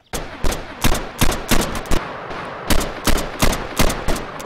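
Rapid gunfire in Garry's Mod, a loud burst of sharp, evenly spaced shots rattling on for several seconds with no pauses.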